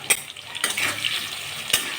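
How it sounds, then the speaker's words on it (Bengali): Steady sizzle of salted potatoes frying in a pan with a few sharp utensil clinks and scrapes at intervals; no one speaks. "এবার আলুগুলো ভেজে নেব"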